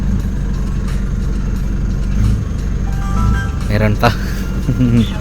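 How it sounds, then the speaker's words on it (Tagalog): A third-generation Mitsubishi Montero Sport (2016 onward) engine idles just after starting, a steady, loud, close hum with a brief spoken remark over it. "Ayan, nag-start naman yung engine."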